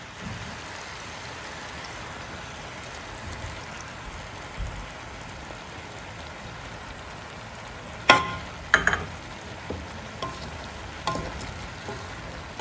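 Sotanghon guisado with glass noodles and soy sauce sizzling in a pan, a constant close frying hiss broken by a few sharp clatters of stirring near the end.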